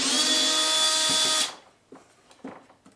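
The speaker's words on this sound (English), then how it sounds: "So whatever we can literally unscrew is what we're doing right now." A power drill whines steadily while backing out dashboard screws on a Honda Civic, then cuts off abruptly midway, followed by faint clicks and light handling noises of parts being loosened.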